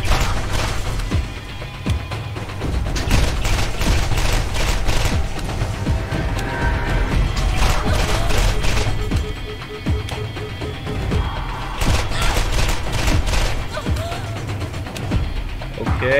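Dense, continuous gunfire from an electric gun in the video game Borderlands, loud and relentless, with rapid shots and clattering impacts layered throughout and no pause.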